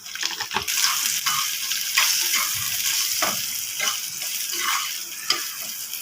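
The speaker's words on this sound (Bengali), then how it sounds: "সরিষার তেল দেবো, আলুগুলো ভেজে নেবো। লবণ হলুদ দিয়ে আলুটা ভাজবো।" Potatoes frying in mustard oil with salt and turmeric, a close, lively sizzle with bursts of crackle and stirring scrapes throughout.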